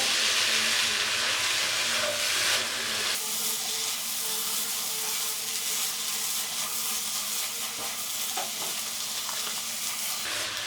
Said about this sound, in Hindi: अब हम इसकी 1 से 2 मिनट तक बुनाई कर लेंगे।